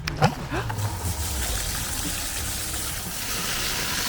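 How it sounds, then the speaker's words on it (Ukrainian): A Dnipro-M drainage pump pushes out dirty water with a continuous, close rushing and gurgling flow and a faint mechanical hum underneath, steady throughout. "Викачує, викачує брудну воду"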